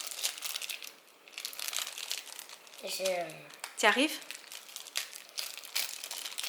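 Crinkly plastic packaging on a mini Funko Pop from an advent calendar is torn and rustled by hand in bursts, close by, while people talk over it.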